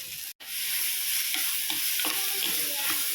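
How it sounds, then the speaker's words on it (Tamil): Onions fry in a pan for a gravy, giving a steady, close sizzling hiss that drops out once briefly, with light spoon taps and scrapes as they are stirred. "வெங்காயம் நல்லா வதங்கிருச்சு"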